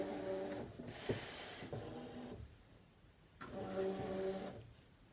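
A ScanNCut cutting machine whirs as its rollers draw in a cutting mat, two motorised bursts of feed noise separated by a quieter pause, fairly close and with no talk.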